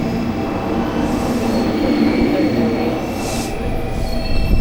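A commuter train in Fukuoka, Japan runs close by with a loud continuous rumble, wheel noise and brief high squeals of the wheels, and faint voices underneath.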